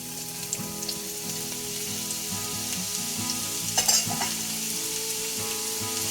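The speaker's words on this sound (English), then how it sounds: "Allow the leeks to sweat a little bit" Leeks and shallots sweat in hot olive oil in a pan, a steady close sizzle with a brief stirring clatter midway.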